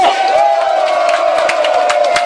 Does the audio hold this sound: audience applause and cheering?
yes